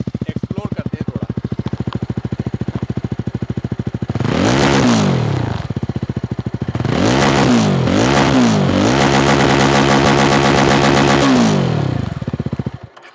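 Jawa 350 motorcycle engine idling with a steady close thump, then several sharp revs climbing and falling, ending in one longer held rev before settling back.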